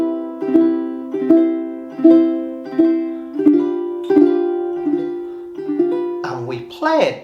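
Ukulele strums the chords of Sigh Waltz in a steady waltz-like pulse, about ten close, bright chord hits each ringing out, with a voice briefly starting to talk at the very end.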